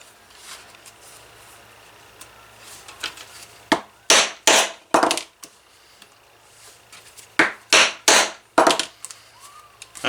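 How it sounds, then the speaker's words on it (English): A hammer strikes a steel setting tool to set rivets in a leather card holder, landing sharp close blows in two quick bursts of three or four whacks, with faint scraping between them. "A couple of whacks with a hammer."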